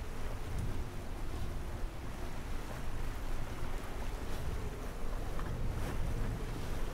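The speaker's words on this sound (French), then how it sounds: "Il y a une petite vague quand même, il y a vraiment des petites vagues." Small ocean waves wash steadily around a sailboat in the Sailaway sailing game, a continuous soft rush of water and wind at low level with no voices.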